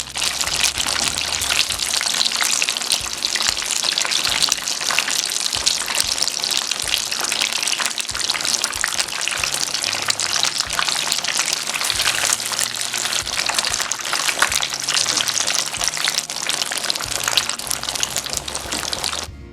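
Mac and cheese bites deep fry in hot oil, a loud, dense, continuous bubbling hiss that holds steady throughout with no voices.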